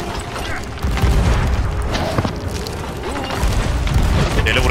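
Cannons fire in Sea of Thieves during a ship battle, heavy booms and crashes rolling one after another over a dense, loud game soundscape while players shout in the background.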